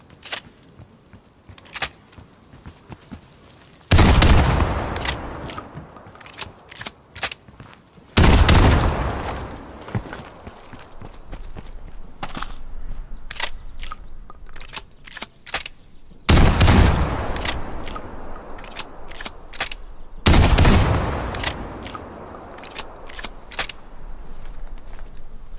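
A Marshal pistol with its shortest barrel attachment fires in Black Ops Cold War, sounding four loud, booming single shots spaced several seconds apart, each decaying into a long echo, with quieter clicks and handling sounds between them.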